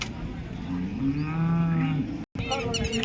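A cow moos loudly and close by at the Modnimb cattle market in one long, drawn-out low call, followed by a brief pause and another lowing sound.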